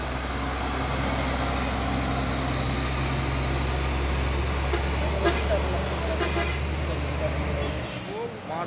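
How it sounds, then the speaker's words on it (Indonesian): A heavy 6x4 tronton truck manoeuvring amid roadside traffic, its deep engine rumble droning steadily and loudly while other vehicles pass and voices talk over it. "Masuk lagi truk tronton Kusoren 6x4 tadi."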